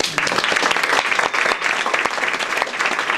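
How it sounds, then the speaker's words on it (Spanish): An audience at a live concert gives loud, lively applause for a guest artist, a dense, close burst of clapping with a few sharp individual claps standing out, continuous and without talking. "voy a pedir un fuerte aplauso para él"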